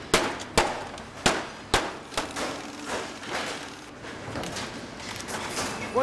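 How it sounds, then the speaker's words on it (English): Old televisions are taken apart by hand at a recycling plant to reach the glass, giving a series of sharp clangs and thuds at irregular intervals, loud and close, over steady industrial background noise. "What's going on here is we have to quickly take apart the tellies to separate and get to the glass section"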